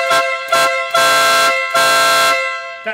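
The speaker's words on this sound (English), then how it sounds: "The horn's all hooked up, ignition's on, it should be pretty loud and honk." A Vespa GTS scooter's installed air horn blasts a tune in five loud, close honks of varying length, with short gaps between them and no voices.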